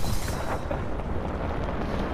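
Gunfire in the video game Apex Legends: a loud, dense barrage of shots and booming blasts that runs continuously through the whole stretch, heard alone without talk.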